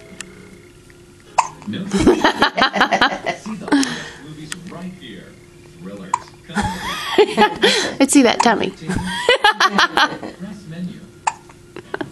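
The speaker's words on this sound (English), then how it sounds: "I have hiccups." A girl has the hiccups, sharp sudden hiccups coming in bursts between stretches of talk and chuckling from people nearby.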